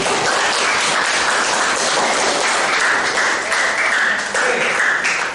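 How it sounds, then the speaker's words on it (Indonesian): Classroom applause, a thick and continuous wash of many hands clapping together at close range, holding a fairly even level from start to finish with hardly any talk. "Tepuk tangan tuh ikan."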